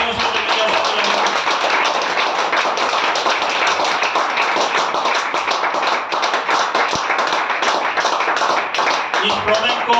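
Dense, sustained audience applause fills the whole stretch at a steady loud level, with many overlapping claps from a crowd at a product presentation.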